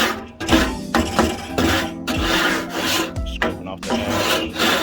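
A metal scraper rasps across a backyard BBQ grill, clearing off old ash before a Fourth of July cook; repeated close, gritty strokes with short pauses between them, loud and steady.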